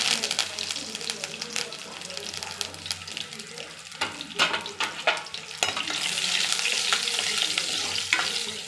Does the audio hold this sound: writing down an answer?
no